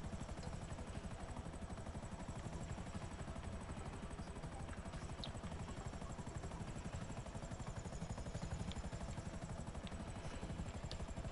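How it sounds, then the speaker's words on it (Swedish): Helicopter flying overhead, a steady loud rhythmic rotor thumping that holds through the whole stretch with no talking over it. "Hallå, helikopter!"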